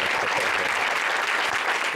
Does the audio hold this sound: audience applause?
yes